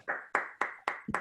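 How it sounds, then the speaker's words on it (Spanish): Brief applause from an online audience over open microphones: a handful of separate sharp clap bursts in an uneven rhythm, fairly close and moderate in volume, with no talking. "voy a abrir a todo el mundo el micro para que demos un aplauso"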